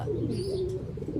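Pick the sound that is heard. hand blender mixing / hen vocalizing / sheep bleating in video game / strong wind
hen vocalizing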